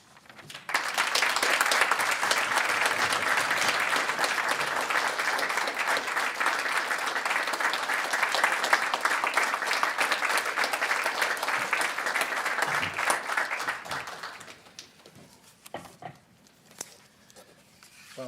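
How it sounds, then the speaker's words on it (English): A crowd at a university faculty hall of fame awards ceremony applauds the award recipients. The applause is full and sustained for about fourteen seconds, then fades to a few scattered claps and near quiet. "let's give all of our recipients another round of applause"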